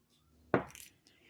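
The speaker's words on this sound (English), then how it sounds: "We're going to roll this dice." A single die is dropped onto a hard surface, giving one sharp clattering impact with a brief rattle and a faint second tap as it settles.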